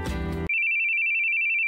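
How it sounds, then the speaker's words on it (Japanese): A phone ringtone sounds as one unbroken, steady electronic tone, loud and close, after a brief burst of other sound at the start. "呼び出し音が鳴っている。"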